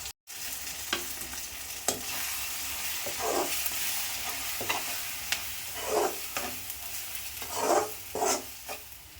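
Spices and chilli powder, including Kashmiri chilli, frying and being stirred in oil in a pan for a brinjal kuzhambu, a steady close sizzle with repeated scraping stirs throughout.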